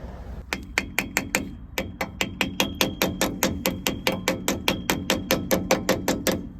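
A metal grease cap is tapped onto the wheel hub of a 2001 Ford F150 with a hammer: about twenty quick, evenly spaced metallic knocks in a steady rhythm, close and loud.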